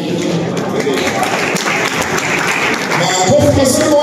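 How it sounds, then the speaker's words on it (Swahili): Audience applause at a school gathering, steady dense clapping sustained throughout at close range, with voices mixed into the crowd noise. "Makofi mazuri wale watu"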